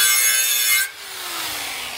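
Abrasive scrubbing of a metal trailer surface to remove old paint and contaminants before welding mounts, a loud harsh rasping that stops abruptly just under a second in, followed by a quieter lingering hum.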